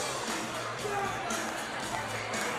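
Arena crowd at a live fight night, a steady dense roar and babble of many voices swelling throughout, loud and continuous with no single voice standing out.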